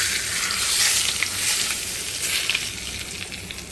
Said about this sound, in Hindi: इसमें डलेगा ये 2 टेबल स्पून के बराबर ऑयल है, जिसे मैंने खूब गर्म कर लिया